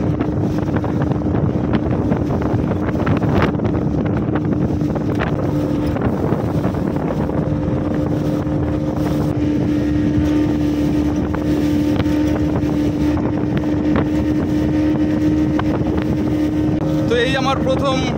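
A speedboat pounds across rough river waves between Chandpur and Barishal, its engine a steady loud drone under heavy wind buffeting the microphone throughout.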